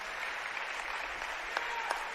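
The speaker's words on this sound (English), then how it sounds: "Round of applause for the young man, Michael Teague." Crowd applause at a high school varsity basketball game in a gym, steady dense clapping throughout with a couple of sharper claps and faint voices underneath.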